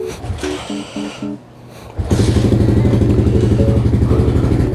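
A Yamaha-style R150 Fi motorcycle on a cold engine gives a few clattering kickstart strokes, then fires and settles into a loud, close, evenly pulsing idle.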